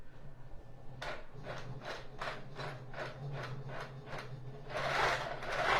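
A Quilt Maker Pro quilting machine stitches in an even rhythm of about ten evenly spaced rasping strokes over a low hum, then gives way to a denser, louder whirr.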